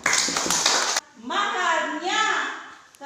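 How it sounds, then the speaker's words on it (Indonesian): A classroom of children claps together in a short, dense burst of hand claps lasting about a second, followed by someone speaking. "Mari kita tepuk tangan."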